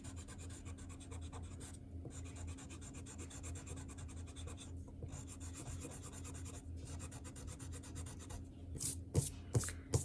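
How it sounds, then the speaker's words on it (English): An eraser rubs pencil lines off a drawing of a March lion and lamb, giving soft, close, continuous scrubbing strokes with brief pauses and a few sharper taps near the end. "I'm going to erase that pencil line I did on the inside."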